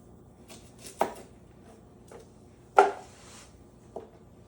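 A knife cuts through a shallot on a board, four or five sharp, separate chops spaced out over a few seconds in a quiet kitchen, the loudest two landing crisp and close.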